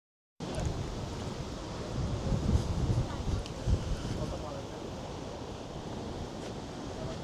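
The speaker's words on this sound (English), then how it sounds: "That's how windy it is." Strong gusting wind buffets the microphone outdoors at a DC war memorial, a broad rushing roar that swells and dips after an abrupt start, with low rumbling bursts around the middle.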